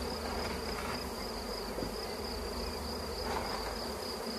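Honeybees buzz steadily around, a faint continuous hum with a few individual bees droning a little closer at moments.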